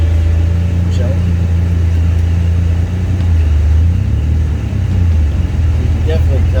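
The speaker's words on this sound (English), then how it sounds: "You can definitely tell the car is loud." A Nissan 350Z with a Z1 M-Spec dual exhaust rumbles loudly and steadily at low revs, a deep, throaty drone filling the whole stretch with slight swells.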